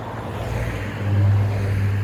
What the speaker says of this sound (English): Bloody traffic.